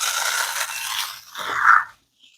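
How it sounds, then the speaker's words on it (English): Cornflakes are crushed by hand onto a tray of cheesy funeral potatoes, a dry crackling crunch lasting over a second, then a brief sharper crunch before it stops, close and isolated. "the cornflakes we're just going to crush onto the top"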